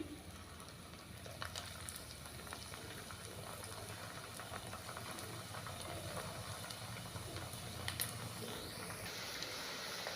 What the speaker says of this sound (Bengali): কড়াইতে তেল দিয়ে দিচ্ছি। তেলটা খুব হাই হিট হয় না, মিডিয়াম হয়েছে, এই অবস্থায় এগুলোকে আমি ছেড়ে দিচ্ছি